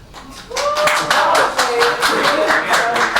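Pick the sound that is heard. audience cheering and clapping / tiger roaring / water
audience cheering and clapping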